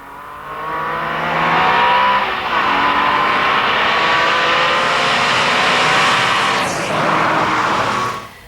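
Street racing cars on a city road, engines roaring loudly as they pass, with brief tire squeals and whooshes of vehicles speeding by, continuous throughout.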